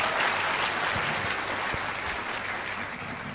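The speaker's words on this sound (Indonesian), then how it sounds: "Tepuk tangan." Applause from an audience at an Indonesian talk event, a steady dense patter of clapping that stays fairly even throughout with no talking over it.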